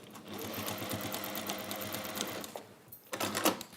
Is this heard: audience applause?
no